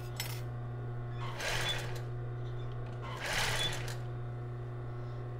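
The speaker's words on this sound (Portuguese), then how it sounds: "Vou seguir costurando." A sewing machine stitches butyl elastic onto thong panties in two quick bursts of rapid mechanical chattering, separated by a pause where the motor hums steadily in the background; close and clear, with no talk.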